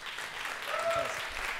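Audience applause for a Costa Rican band on a televised music show: a dense, steady wash of many hands clapping, fairly close and loud, with no speech over it.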